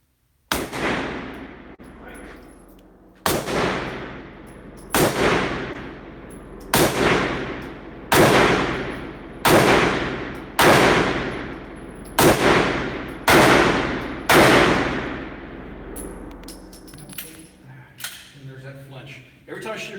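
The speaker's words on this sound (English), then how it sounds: "every time I shoot a gun for the first time," A firearm is fired outdoors on a shooting range in about ten loud, sharp shots at an unhurried rhythm, each ringing out and decaying before the next, with no talk between them.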